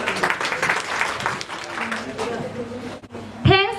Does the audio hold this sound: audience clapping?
yes